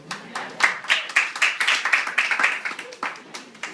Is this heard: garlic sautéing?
no